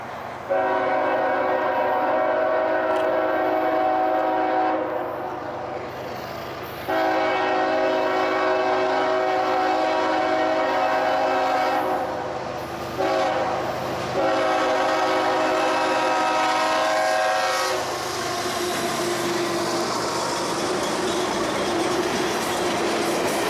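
A loud, sustained horn on a BNSF freight train blares in long blasts over the rumble of the passing train, giving way to rolling wheel noise at the end.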